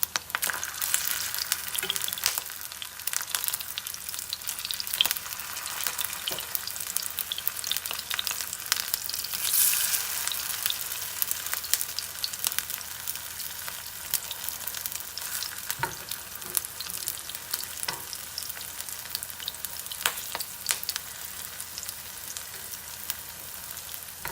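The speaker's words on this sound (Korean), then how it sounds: "전을 할 때는 기름을 좀 듬뿍 부어야지 타지 않고 잘 익습니다" Potato pancake batter fries in a generous pool of oil, giving a steady bright sizzle and crackle that runs the whole time, with occasional louder pops and no talking.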